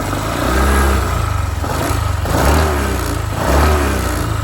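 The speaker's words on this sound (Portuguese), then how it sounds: "Vou acelerar para vocês verem." A Honda ADV 150 scooter engine revs up in three surging bursts, close and loud, dropping back between each throttle blip.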